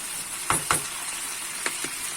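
Mixed vegetables fry in oil with a low, constant sizzle, broken by a few sharp knocks of a utensil against the pan.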